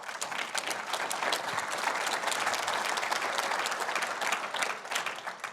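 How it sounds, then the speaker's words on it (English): A live studio audience applauds a panel at the close of a broadcast on customer and employee relationships, sustained and dense clapping at a consistent loudness that tapers slightly near the end. "One more round of applause for our panel"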